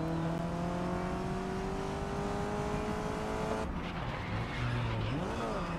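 A race car in the video game GRID Legends holds a steady, loud engine drone that cuts off abruptly, followed by a brief rising and falling squeal of tires near the end, with no talking.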